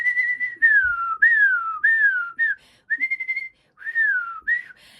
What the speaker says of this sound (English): Another thing, whistling.